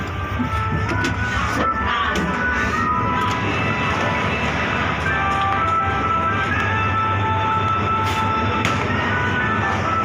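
Express train 112 at Chum Saeng station in Thailand, a loud, continuous rumble and clatter of rolling cars with intermittent metallic squeals and crowd noise at a busy platform.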